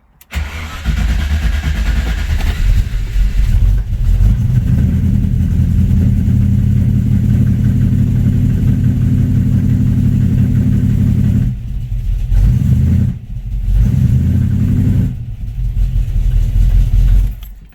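A Ford Capri V8 engine idles on a dyno, a loud, steady, close-up rumble that runs continuously with brief dips around the middle and near the end, after a higher-pitched start at the beginning.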